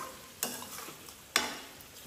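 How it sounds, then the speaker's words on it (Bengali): Pigeon meat fries in oil with a soft sizzle, broken by two sharp scraping stirs of a spatula in the pan. "আমার মাংসটা একদম ভাজা ভাজা হয়ে তেলের উপরে উঠে এসেছে দেখুন"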